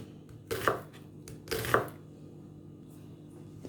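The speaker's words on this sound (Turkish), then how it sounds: "İlk önce iki soğanımı şöyle ben bir ince ince doğrayacağım." Two crisp knife chops through onions hit a cutting board about a second apart, close and fairly quiet, followed by near silence.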